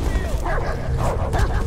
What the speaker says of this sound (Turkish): Aa, köpek geldi.